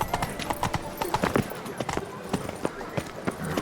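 Horse hooves clip-clop in a quick, uneven rhythm through Beauclair in The Witcher 3: Wild Hunt, Blood and Wine, with game voices speaking over the trotting.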